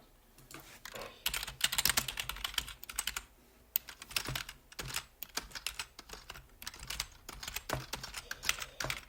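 Typing on an English-layout computer keyboard, bursts of rapid, close key clicks with short pauses between runs, crisp and moderately loud, no speech.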